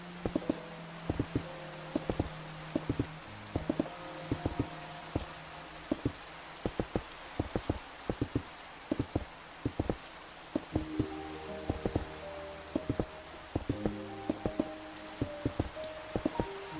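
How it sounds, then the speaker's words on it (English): Steady rain hisses softly in a Minecraft game world, joined by clicking, tapping interface or block sounds in an irregular rhythm, faint and continuous with no speech. "The rain's kind of peaceful."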